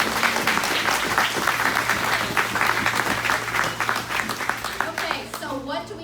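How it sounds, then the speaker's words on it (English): Audience applause for young ambassadors at a president's remarks event, fairly loud and continuous, with voices and a steady low hum mixed in toward the end. "Please take a moment and everybody give them a round of applause."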